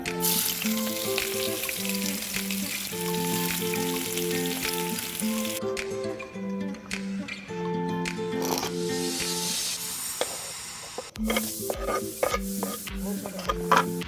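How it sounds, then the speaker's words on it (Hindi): Onions and potatoes frying in a pan for a sandwich filling hiss with a steady sizzle and stirring scrapes, under loud background music. "तो मैं इसको प्याज भून के मैं आलू भूनूंगी"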